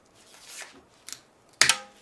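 A few sharp snipping cuts of diagonal cutters on a feather quill, a soft one and then a louder crisp double snip near the end, close up with quiet rustling between.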